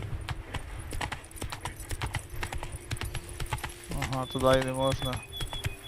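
Hooves of Roach, the horse in The Witcher 3, clopping in a quick rhythmic gait in the game, close and clear, with someone talking over it.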